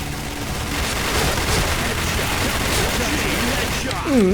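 Pindad gunfire in the video game Point Blank comes as dense, continuous rapid shooting under a voice talking throughout.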